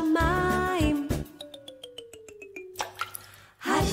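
A cartoonish falling water-drop effect: a rapid series of bright, evenly spaced plinks sliding downward in pitch, then a soft splash, framed by a voice before and after.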